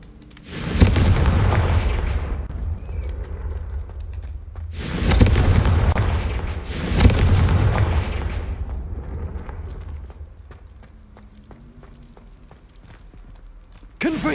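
Three heavy, booming blasts from the Confringo blasting spell in the Hogwarts Legacy video game, loud and close, each with a long rumbling tail, spaced a few seconds apart.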